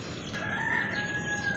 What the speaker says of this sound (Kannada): ಮುಂಜಾನೆ ಕೋಳಿ ಕುಕ್ಕೊಂತ ಇದೆ.